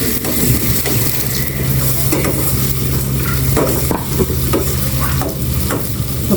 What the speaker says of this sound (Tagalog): Gisahin po natin mabuti.